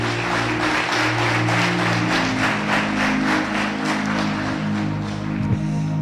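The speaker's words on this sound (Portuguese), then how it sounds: "Você pode dar uma salva de palmas para o Senhor?" Congregation clapping in a church service, a steady wash of hand claps with a rhythmic pulse over low sustained organ or keyboard tones, fairly loud and continuous throughout.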